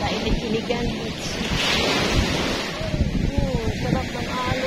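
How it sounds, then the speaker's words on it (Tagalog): Ocean waves rolling onto Ilig-Iligan Beach in Boracay, a steady wash of surf with gusty wind buffeting the microphone, fairly loud and close, with faint voices in the background. "Sarap ng alon."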